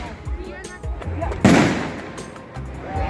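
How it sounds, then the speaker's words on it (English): A firework artillery shell bursts with a loud, sharp report about midway, its crackling decay trailing off over a steady outdoor murmur of people talking. "The artillery shell."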